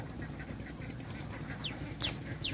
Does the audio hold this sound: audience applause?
no